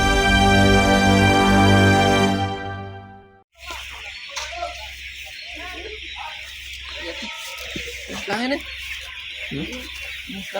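Broiler chickens in a poultry coop cluck and chatter in a dense, continuous flock under a steady low hum, with a brief tonal stretch at the start before the birds come in.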